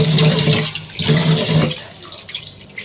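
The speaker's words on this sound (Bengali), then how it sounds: "এই চালটা ধুয়ে নিই" Rice is rinsed under running water, a close splashing gush that swells in two surges and then thins to lighter trickling.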